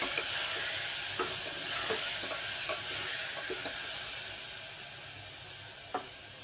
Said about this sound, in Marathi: हळद पण तेलात छान तळू द्यायची